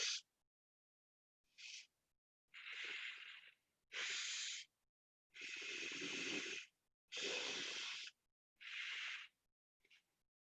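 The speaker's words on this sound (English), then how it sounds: "Initially, I am generating sound, so you understand that I am breathing." Audible pranayama breathing: a series of hissing nasal inhales and exhales, each a second or so long, separated by silence, close and soft.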